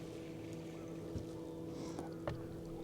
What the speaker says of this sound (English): I'll just motor in quietly on the electric and unsnag my lure.